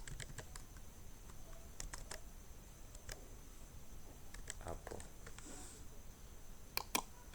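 Scattered keystrokes on a computer keyboard while typing into an HTML file, quiet clicks in small bursts with pauses between them over a low background hiss.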